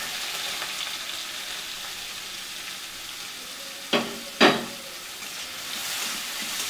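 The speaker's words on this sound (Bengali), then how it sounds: "পেঁয়াজটাকে একবার লাল করে ভাজবো না, হালকা করে পেঁয়াজটাকে আমি ভেজে নিব" Chopped onions fry lightly in oil with a steady, moderate sizzle, and two sharp stirring strokes land close together partway through; no one speaks.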